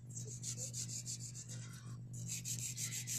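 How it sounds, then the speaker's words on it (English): A nail file rubs back and forth across a nail in quick, even strokes, close and soft, with a steady low hum underneath. "You just feel that it's filing."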